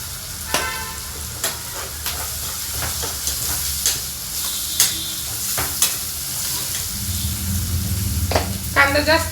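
Green moong being stirred in a hot pan with frying spices such as hing and turmeric, giving steady sizzling with repeated scraping clicks of the spoon, fairly close; a brief burst of louder clatter comes near the end.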